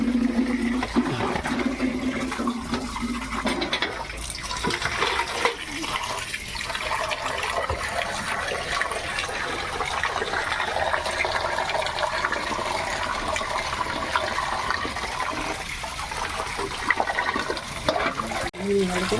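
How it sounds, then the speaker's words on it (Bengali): Water running steadily from a tap to fill a container for washing fish in a home kitchen, a continuous close rushing and splashing that lasts the whole time, with a voice speaking over it. "জল ভরতে হবে এখন"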